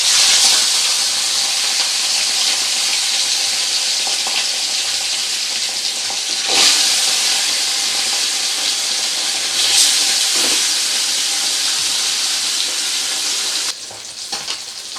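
Pieces of rohu fish frying in hot mustard oil give off a loud, steady sizzle and hiss, with brief bursts of spattering a few times, and a sudden drop in intensity near the end.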